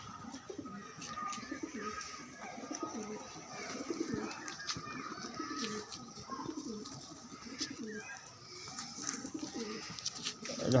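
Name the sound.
pigeons cooing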